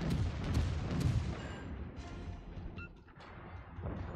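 Naval guns fire in a warship video game, with heavy booming blasts and a rumbling, crashing wash of battle noise that fades slightly toward the end.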